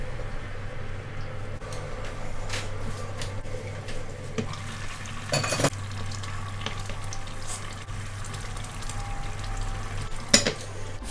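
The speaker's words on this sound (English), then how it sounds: "Allow this pot to boil with intense heat." Chicken curry sauce bubbling hard on high heat in a covered pot, a quiet, steady simmering hiss with a low background hum and a couple of brief clinks.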